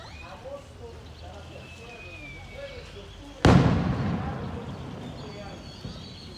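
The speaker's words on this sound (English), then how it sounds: "here's some fireworks in the distance" A single sharp firework blast goes off in the distance in the town of Monte, Oaxaca, Mexico, its boom rolling away over a couple of seconds after a stretch of outdoor ambience with birdsong.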